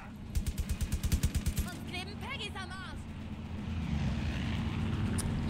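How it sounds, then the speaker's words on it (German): An enemy airplane in the video game Far Cry 5 flies overhead. A rhythmic low engine pulse gives way to a swelling, steady roar that grows louder, mixed with other game sounds and a voice. "Scheiß Flugzeug, die haben mich auch schon"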